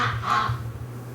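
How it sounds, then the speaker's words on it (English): A single duck quacking indoors in a barn back room, two or three hoarse nasal calls in quick succession over a low steady hum, then quiet. "She's just quacking her face off because she can hear her friends out here."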